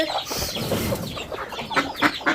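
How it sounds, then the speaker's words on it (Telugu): Farm chickens hurrying out of their coop, with close, busy overlapping clucks and squawks and a few rustling wing flaps in quick succession. "కోళ్ళు ఫాస్ట్గా ఇలా వచ్చేస్తాయి బయటికి"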